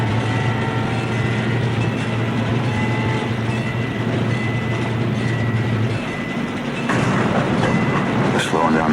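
A train rolls along, heard from a truck riding on it, with a continuous heavy rumble and rhythmic rail clatter that grows rougher and louder toward the end.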